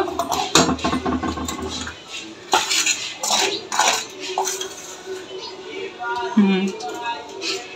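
Cake batter with flour is mixed in a bowl, with repeated clatter and scraping of a utensil against the bowl amid voices talking.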